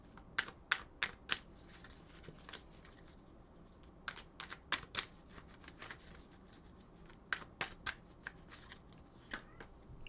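Tarot cards being shuffled in short crisp bursts of riffling and flicking, close up and fairly quiet, with brief pauses between rounds.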